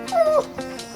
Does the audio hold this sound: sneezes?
no